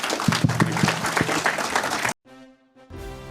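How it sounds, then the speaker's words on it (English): An audience applauding at a Stranger Things convention panel at Steel City Con, a loud clatter of clapping with a few sharper claps standing out, cutting off abruptly after about two seconds into near silence and a brief low sound. "applause, please."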